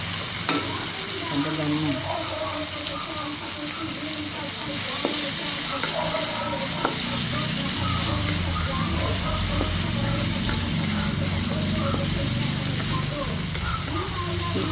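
Kangkong being sautéed in a pan with tomato, chili and salt, a steady close sizzle and frying hiss with stirring scrapes throughout, under occasional talk.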